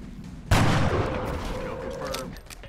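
A single sharp gunshot headshot in the video game XCOM: Enemy Within, loud and booming, followed by a long reverberant tail that slowly fades.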